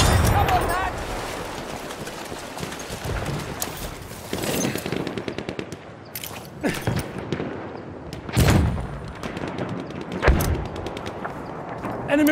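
Machine gun fire in the Battlefield 1 Somme River map, with repeated bursts and booming shots in a busy wartime battle soundscape, mixed under in-game shouted voice lines.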